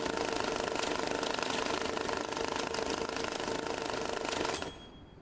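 A cash cleaning machine in Cash Cleaner Simulator thwaps with a rapid, steady mechanical chatter like a small engine, fairly quiet and alone, then winds down near the end with a brief high tone.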